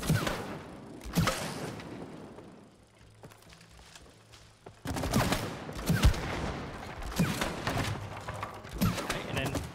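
Repeated gunshots ring out at training targets in the game It Takes Two, coming in clustered bursts with a quieter stretch in the middle, while voices talk throughout.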